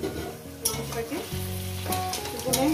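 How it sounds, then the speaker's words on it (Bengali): Chicken pieces frying over high gas in a pan, with a continuous close sizzle and occasional stirring scrapes, alone with no voices. "মাংসটাকে হাই গ্যাসে মিনিমাম 7-8 মিনিট ধরে ভেজে নেব।"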